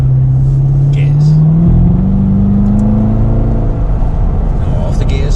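A Chevrolet Corvette C7 Z06 engine revs and accelerates on an autocross slalom course, a loud close drone climbing steadily in pitch before leveling off.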